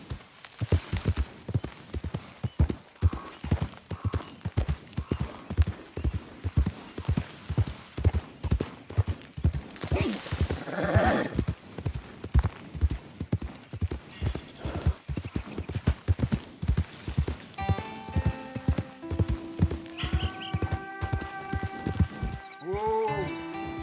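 Horse hooves clip-clop in a steady, rapid trot throughout Red Dead Redemption II, close and prominent, with brief bursts of tack or movement noise and a faint musical tone near the end.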